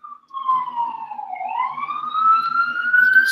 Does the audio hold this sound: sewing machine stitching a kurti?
no